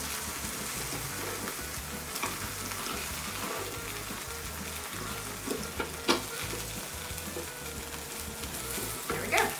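A grilled cheese sandwich with sliced Campari tomatoes sizzles inside a closed sandwich maker, a steady close frying crackle with a few faint clicks and bumps on top and no talking.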